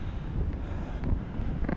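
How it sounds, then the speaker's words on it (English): Wind gusting on an overcast day during an outdoor walk, a steady low rumble buffeting the microphone throughout, with no voices. "it's overcast, it's getting windy"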